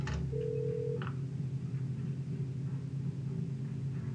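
A telephone rings once in a hotel room in the video game Parasite Eve 2: a short electronic ring over a low, steady ambient rumble, then quiet.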